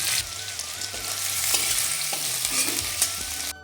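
Chopped onion and whole cumin seeds frying in hot oil in a wok, a steady close sizzle with occasional stirring scrapes and clicks throughout, no voices.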